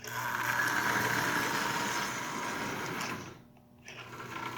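A Marx 994 toy locomotive runs under power with a steady, buzzing mechanical whir close by, dipping briefly near the end before picking back up.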